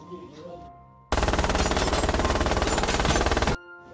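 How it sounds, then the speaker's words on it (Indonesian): Gunfire in a mafia action film: a sudden, very loud, sustained burst of rapid automatic shots lasting a couple of seconds, with quieter background sound before and after. "tiba-tiba dari belakang datang si Bulet yang langsung menembakinya"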